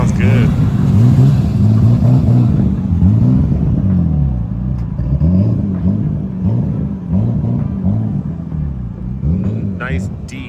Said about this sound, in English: Nice, deep sounding exhaust.